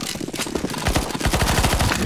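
Rapid automatic gunfire in CS:GO zombie escape mode as players shoot an NPC, dense bursts of repeated shots growing louder and steadier through the second half.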